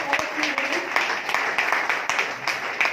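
A wellness business promotion gathering in Lucknow gives loud applause for a mentor, close rhythmic clapping with prominent individual claps that keeps going throughout.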